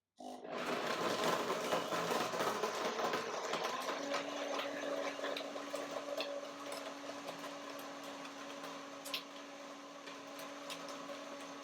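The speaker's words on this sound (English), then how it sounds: "I got to do the first blending first, the blender dance" A blender whirs through cardamom, cinnamon, cashews, banana and milk, its motor droning loud and steady for about ten seconds and easing slightly after a strong start.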